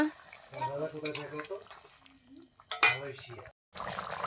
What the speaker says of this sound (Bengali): মাংসটাকে এখন ভালো করে ঢেকে ঢেকে একটু কষিয়ে নেব